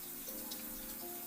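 Shower water running steadily, a continuous close hiss of spray with no one speaking.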